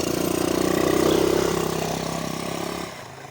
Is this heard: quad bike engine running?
yes